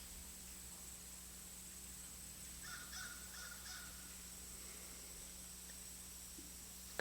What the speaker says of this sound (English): the caw-caw comes and goes